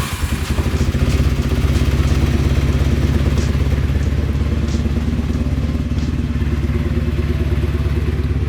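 A 45-year-old vintage motorcycle engine idles loud and close, a steady, throbbing mechanical putter with faint clatter running throughout, and no voices over it.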